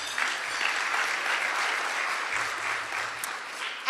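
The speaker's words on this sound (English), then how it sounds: "Let's give them all a big round of applause." Applause at an I-Drive business luncheon in Orlando, a dense, steady clatter of many hands from a seated crowd, fairly faint and even throughout.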